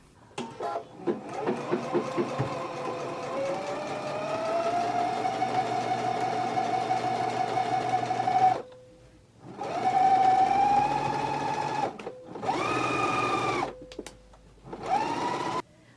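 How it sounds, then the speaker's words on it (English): A sewing machine runs in long steady bursts while understitching the front pocket of a pair of pants, its motor whirring continuously for several seconds, pausing, then starting again in shorter runs, close and alone. "So let's go ahead and do understitching now"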